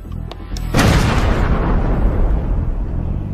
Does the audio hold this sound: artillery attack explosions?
yes